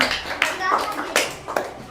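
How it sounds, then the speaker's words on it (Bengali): Fourth-grade schoolchildren in a maths class give a short round of clapping, a few sharp hand claps scattered among children's voices and talk. "একটা হাততালি দাও।"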